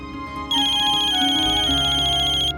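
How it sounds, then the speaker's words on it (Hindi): A phone ringtone chimes in after a brief pause, a bright repeating electronic melody that rings steadily for about two seconds before cutting off. "ये लीजिए, चौथा फोन आ गया इसका"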